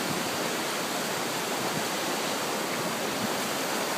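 A river flows steadily past a stone-house village in Brittany, a continuous broadband rush of water with no breaks and no voices.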